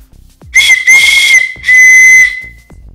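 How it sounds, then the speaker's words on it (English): A loud, shrill whistle built into a tanto neck knife sheath, blown in three bursts, the last one held longest, with a breathy hiss and faint handling noise between blows. "And now I shall demonstrate to you the whistle."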